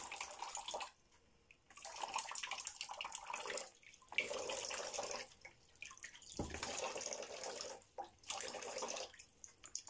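Water poured over sprouting mung beans, quiet splashing and trickling in several bursts separated by short pauses, close up with no talking.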